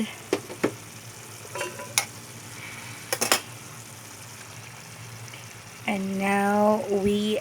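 Chicken adobo sizzles and is stirred in a pan while the traditional Filipino dish dries out. Scattered scrapes and clinks lead into a loud, steady frying hiss near the end.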